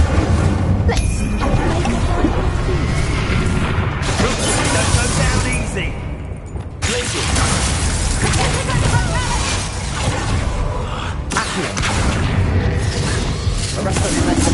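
Fiery spell blasts from the Incendio charm in Hogwarts Legacy boom and crackle almost nonstop under a dense game soundscape, with booming bursts and shattering impacts recurring throughout, broken by a brief lull midway.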